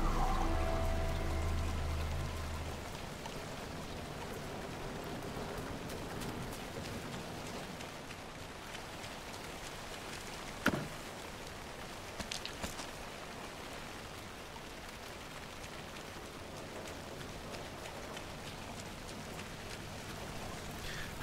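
Night rain patters steadily on leaves as a soft, even hiss, with a low rumble at the start that fades, and a single sharp knock partway through.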